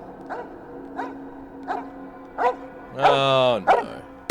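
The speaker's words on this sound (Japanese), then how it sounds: "犬の鳴き声が止んだ。" A dog barking in an anime episode, four spaced single barks followed by a longer whining yelp and one more bark, fairly close and clear.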